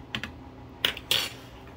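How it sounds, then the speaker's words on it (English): Spoon stirring sugar into lukewarm water in a container, giving four quick light clinks and taps, close and otherwise quiet. "Stir that around a bit."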